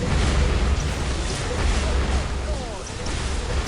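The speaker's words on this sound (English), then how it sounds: "fighting along, battle cannon firing" Battle cannons firing during a large Warhammer 40,000 Dawn of War: Unification skirmish, heavy booming blasts piled into a constant dense roar of combat.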